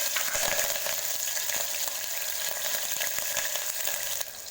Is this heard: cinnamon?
yes